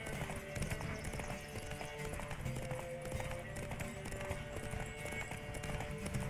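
Horse hooves clip-clopping at speed in the video game The Witcher 3, a fast repeated gallop rhythm heard continuously at moderate level, mixed with game music and ambience.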